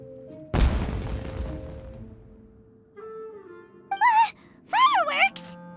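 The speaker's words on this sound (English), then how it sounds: "Was that an explosion? It sounded like fireworks." A fireworks explosion in Genshin Impact bursts with a loud crackling boom that fades out, followed by game tones and short character exclamations.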